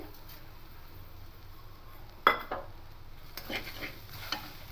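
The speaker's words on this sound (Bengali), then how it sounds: "চিনিটা দিয়ে এভাবে নাড়তে থাকবো" Watermelon rind cooks with sugar in a pan while a spoon stirs it, producing a low simmering sizzle broken by a sharp scrape or clink and a few softer knocks of utensil against the pan.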